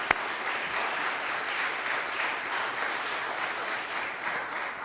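Dense, sustained applause fills the room at a Philadelphia mayoral press conference on citizenship, a thick wash of many hands clapping at a fairly constant loudness throughout.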